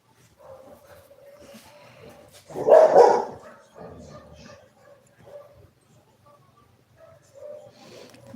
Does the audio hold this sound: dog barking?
yes